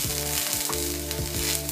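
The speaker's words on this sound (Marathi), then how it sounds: "आता हा कांदा आणि कोथिंबीर थोडी परतवून घ्यायची" Chopped onion and coriander sautéing in a hot pan, a loud continuous sizzle with a few scraping stirs, over a steady low hum from the gas stove.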